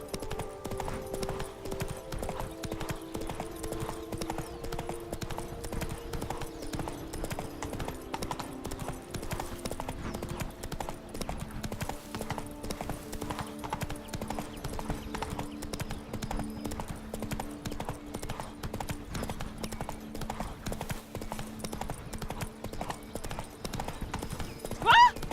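Horse hooves galloping in The Witcher 3: Blood and Wine video game, with a fast, continuous clip-clop rhythm that stays loud throughout.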